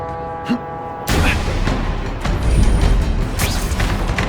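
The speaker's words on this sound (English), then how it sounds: "That's the kind of heavy artillery you see in a combat zone." Heavy artillery blasts erupt in The Amazing Spider-Man video game, a sudden loud boom after a brief quiet, followed by dense rumbling combat noise and further impacts, with a voice briefly heard.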